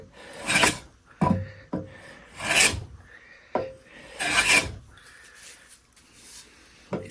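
Bridge City hand plane jointing the edge of a wooden board, with several sharp rasping strokes of the blade shearing wood, each stroke a loud close swish separated by short pauses and light knocks.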